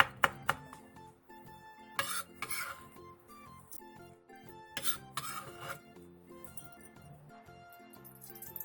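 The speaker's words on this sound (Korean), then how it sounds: "청양고추 2개와 홍고추 3개를 길게 반으로 가른 뒤 쫑쫑 썰어주세요" Knife finely chopping Cheongyang and red chili peppers on a board, with irregular sharp taps and clinks, close and moderately quiet, over faint music.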